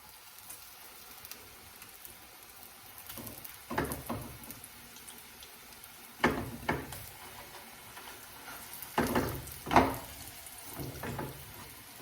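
Gluten-free breadcrumbed potato cakes made from leftover mash are laid into a hot pan, setting off several soft bursts of sizzling over a quiet background, with no talking.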